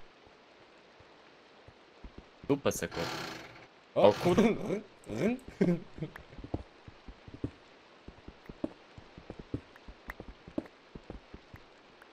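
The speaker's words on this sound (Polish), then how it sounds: "No i deszcz leje." Rain pouring in a blocky sandbox video game, heard as scattered sharp droplet ticks and patters through the clip, with people talking over the middle stretch.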